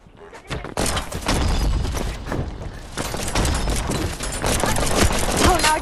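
Rapid, sustained bursts of gunfire in the video game Animal Company, dense and continuous throughout with booming hits, a voice occasionally audible underneath.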